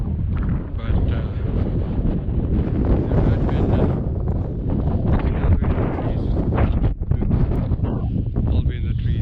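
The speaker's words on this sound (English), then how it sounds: "It's quite windy now." Strong wind roars and buffets the microphone continuously on a January mountain trail as a storm approaches, with a brief spoken remark partly buried under the gusts.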